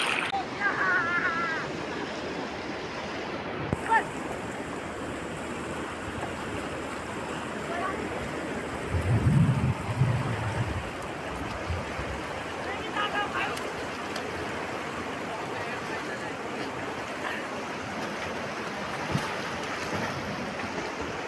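A fast-flowing river in the hills near Nagarkata rushes with a constant broad roar of churning water, steady and close throughout, with brief bumps of nearby movement.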